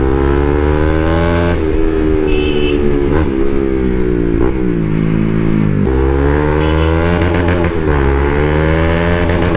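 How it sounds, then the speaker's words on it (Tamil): A modified Yamaha R15 V3 motorcycle's exhaust note, loud and close, a continuous throaty drone that rises and falls with several revs and brief throttle dips across the whole stretch. "எக்ஸாஸ்ட் நோட் நல்லா இருக்குங்க"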